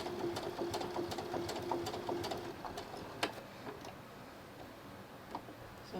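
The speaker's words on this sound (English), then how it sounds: "I'm going to sew all around where I just marked. Just have to go slow around the corners." Sewing machine stitching slowly around the marked outline of a reverse-appliqué fabric coaster, a steady rapid needle rattle with brief pauses and slowdowns at the corners, close and moderately quiet with no talk.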